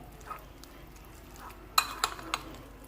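Pasta salad being mixed with mayonnaise in a bowl, quiet soft stirring followed by a few sharp utensil clinks against the bowl near the end.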